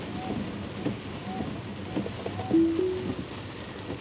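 Rain drums on a Tesla driving on Autopilot, a steady wash of patter inside the car, with a few short tonal chimes and a brief louder swell partway through.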